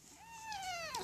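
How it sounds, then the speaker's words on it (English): A pet cat gives one close, clear meow that rises and then slides down in pitch, lasting about a second, with no talking. "my Periscope kitty is just coming over to say hello"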